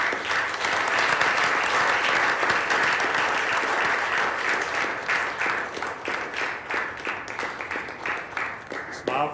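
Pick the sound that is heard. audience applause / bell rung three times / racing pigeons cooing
audience applause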